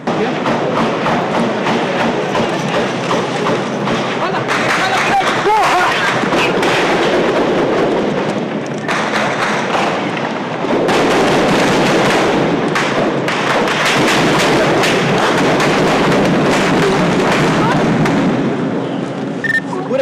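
Dense, loud bursts of rapid gunfire cracking and thumping close by in Rio de Janeiro, nearly continuous with short lulls, while voices speak Portuguese under the shooting.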